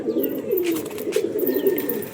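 A white-headed pair of pigeons coos in low, rolling murmurs close by, the throaty calls continuing steadily with no voices present.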